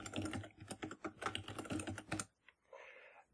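Quick, close bursts of keystrokes on a computer keyboard as a password is typed in, busy for about two seconds before stopping, then a faint trailing sound.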